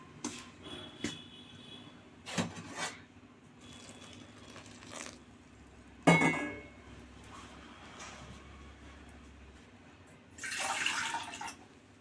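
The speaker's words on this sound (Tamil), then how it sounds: "நல்லா மாவை நல்லா சுடு தண்ணி ஊற்றி நல்லா கலக்குங்க" Hot water poured into idiyappam flour dough with a little coconut oil gives a few short, quiet splashes and clinks spaced across a mostly still kitchen, the last one longer and hissier.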